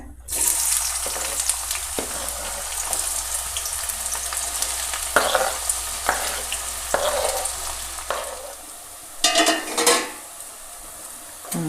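Thinly sliced onions sizzle and fry steadily in a pan for mutton curry, loud and close, while a spoon scrapes and stirs at intervals and clanks against the metal; no one speaks.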